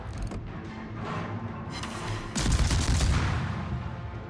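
Heavy naval gun salvos boom from warships in World of Warships, a dense rumbling barrage that swells louder midway and keeps rolling with layered blasts.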